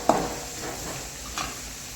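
Onions sprinkled with salt fry in a pan, giving a faint, steady sizzle with a couple of soft stirring scrapes and clicks, heard up close and alone.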